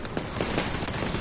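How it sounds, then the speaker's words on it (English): Rapid, continuous automatic turret gunfire in the video game The Division 2, dense and steady bursts at close range with no talk over it. "those turrets are just shredding them"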